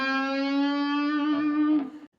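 A single sustained electric guitar note slowly bent up a full step toward its target pitch, from a beginner solo, bright and distorted with rich overtones, rising gently before cutting off abruptly near the end, played alone without any talking.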